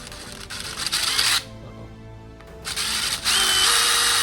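A power drill bores a second hole beside the first in steel tread plate for a 15th-century sabaton, with two loud sustained bursts of whirring and grinding separated by a quieter pause.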